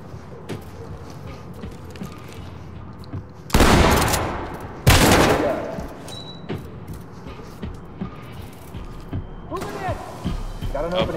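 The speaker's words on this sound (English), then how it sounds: "We're gonna breach. And we're gonna do with shotgun, clear with CS gas." Two loud, sharp blasts of a shotgun breaching a door in the tactical shooter Ready or Not, followed by rattling debris, hissing and scattered softer bangs over a low background, with someone talking in between.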